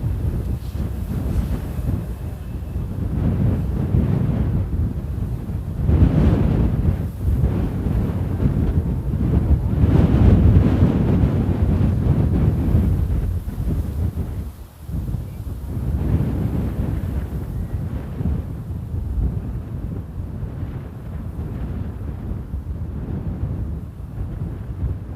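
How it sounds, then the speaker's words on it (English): Strong wind at Amsterdam Airport roars and buffets a microphone in a continuous low rumble that swells in gusts, peaking around the middle before easing back to a steady rush. "Oh, the winds are really strong today."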